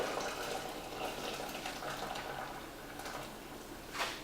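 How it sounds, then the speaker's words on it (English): Hot water is poured over about ten green tea bags, a soft steady trickling gush running throughout at low level, with a brief brighter splash near the end. "Okay, so we're just gonna pour that right on in."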